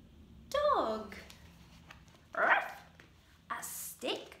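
A storyteller at a library Christmas storytime mimics a dog with several yelping barks and a whine-like call, spaced out and close, in a voiced imitation.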